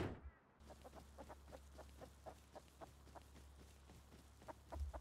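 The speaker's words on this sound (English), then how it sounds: "Chicken." Repeated chicken clucks in the Rust survival video game, a steady run of short calls over a constant low in-game hum, moderately close.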